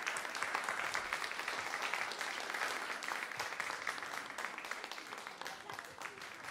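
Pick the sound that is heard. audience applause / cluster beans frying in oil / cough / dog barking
audience applause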